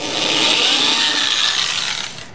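A power drill bores a pilot hole into a wooden workbench, a loud steady whine lasting about two seconds before tapering off, close up with no talk.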